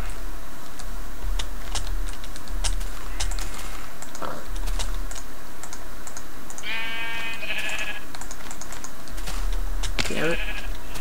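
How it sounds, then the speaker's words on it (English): Sheep in Minecraft give a couple of clear bleats over steady, loud computer keyboard typing and clicking. "I don't want to kill the sheep"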